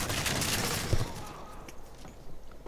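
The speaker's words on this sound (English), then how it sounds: "I'm just randomly shooting into this building at this point" Gunfire in Medal of Honor multiplayer rakes a building in a fast, loud burst at first, then fades into scattered quieter shots and background battle noise.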